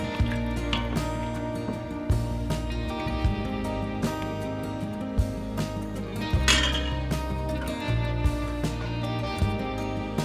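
A spoon stirs gravy and beef stock in an Instant Pot on sauté, with repeated scraping clinks against the metal pot and soft liquid sloshing in a steady rhythm, close and alone.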